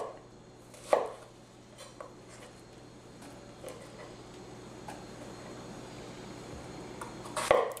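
Knife chopping fresh tomatillos into thin slices for green chili, with a sharp cut near the start and a cluster of quick chops at the end, faint scattered taps between over quiet kitchen background.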